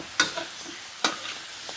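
Pork leg sears in a hot pan with two sharp scraping stirs about a second apart and a soft crackle underneath, no voices.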